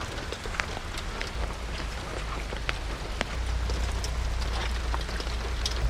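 Rain falling at a campsite near Metro Manila, a steady dense patter with scattered sharper drops that grows heavier and louder partway through, no voices over it.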